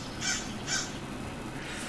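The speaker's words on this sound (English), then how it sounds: "there's a crow. That's crow." A crow caw sound effect plays from a soundboard during a tabletop game session: two short, hoarse caws about half a second apart over a steady background hiss.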